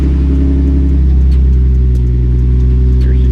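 A Nissan 350Z idles and rumbles steadily up close while being backed out, its low engine note holding loud and even throughout with a slight rise in revs.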